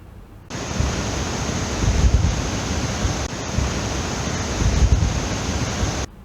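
Loud, steady roar of a fast-flowing mountain river on the Hampta Pass trek, a broad rushing wash of water that swells slightly and cuts off near the end, no voices.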